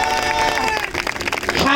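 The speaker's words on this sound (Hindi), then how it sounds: "ताली बजाए प्रभु की महिमा के लिए।" A church congregation claps together during a sermon, a brief burst of dense applause with voices talking over it.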